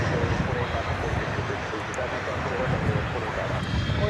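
An American Airlines Boeing 737-800 departs DFW at night, a steady broadband jet engine roar holding at an even level throughout, with low rumble and no distinct peaks.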